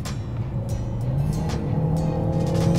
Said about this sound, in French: le moteur devient plus sonore